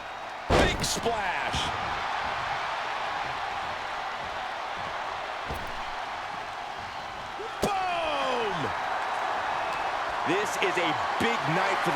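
Big splash slam in WWE 2K25, a heavy impact thud with crowd noise around it, several sharp slams standing out over continuous arena ambience while a commentator talks.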